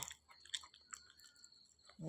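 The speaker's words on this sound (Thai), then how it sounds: "นอนแทะอยู่นี่นะ" An animal lying down and gnawing, giving faint, sparse chewing clicks and crunches across a quiet stretch, with a louder burst of noise at the end.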